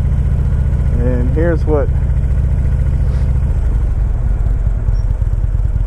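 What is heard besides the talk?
2014 Ultra Limited motorcycle engine idling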